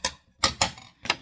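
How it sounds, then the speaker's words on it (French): Scissors snip through paper strips cut for a homemade box, four sharp, close crisp cuts in an uneven rhythm with brief quiet gaps between them. "Je fais un peu de bruit, excusez-moi, c'est les ciseaux"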